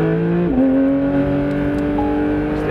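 A Porsche 911 GT3 engine holds a high, loud, whining rev, shifts its pitch once and then sustains a steady tone close by, with no talking.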